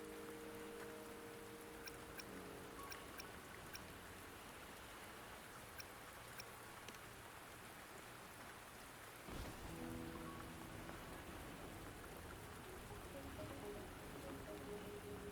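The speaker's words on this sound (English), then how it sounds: "Don't worry, the rain won't last much longer." Steady rain pours throughout a video game scene, a dense, continuous hiss of drops with a faint rumble beneath and a brief dip in the low end midway.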